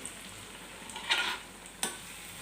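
Bread pakoras frying in a pan of oil: a soft, steady sizzle runs throughout, broken by two brief clatters as pieces are turned over.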